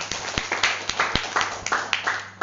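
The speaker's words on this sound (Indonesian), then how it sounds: "tepuk tangan dulu dong buat Awen" An audience clapping at a health product presentation, a small group's scattered, uneven handclaps with sharp individual hits over a faint background hum.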